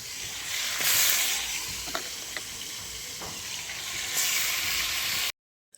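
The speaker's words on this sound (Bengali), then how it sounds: "এদিকে তেল দেখো প্রচণ্ড গরম হয়ে গেছে একসাথে দিয়ে দিই" Ingredients hit very hot oil and sizzle loudly with a constant hiss, broken by a few sharp crackles and stirring sounds, before the noise cuts off abruptly.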